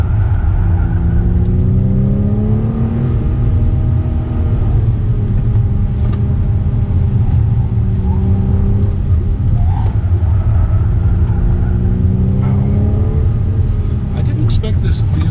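A 2021 Acura TLX Advance SH-AWD drops gears and accelerates hard, its engine note rising and falling steadily through several shifts, loud and continuous, with a voice talking over it throughout.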